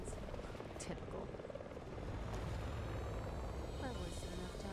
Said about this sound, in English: All helicopters are hind Ds until I'm told otherwise.